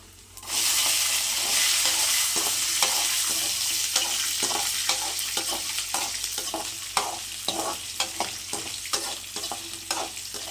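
Ginger, dried chili, garlic and green chili fry for a chutney, a loud bright sizzle that bursts in at the start and continues with repeated stirring clinks and scrapes throughout.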